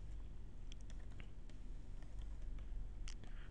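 Faint, quick clicks of keys being typed on a computer keyboard patter irregularly over a low background hum.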